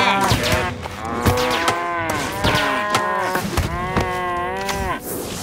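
Repeated loud cartoon cow moos from the South Park Phone Destroyer mobile game, several drawn-out lowing calls in quick succession, close and clear with game effects around them.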